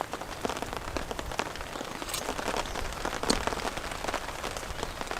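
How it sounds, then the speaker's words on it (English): Heavy rain patters steadily onto water, a dense field of close, overlapping droplet splashes with occasional louder drips, no voices. "Nice shots of the rain hitting the water."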